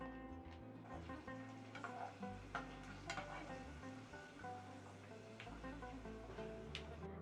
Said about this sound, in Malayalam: പിന്നെ കിഷ്മിഷും വറുത്ത് കോരിയെടുക്കാം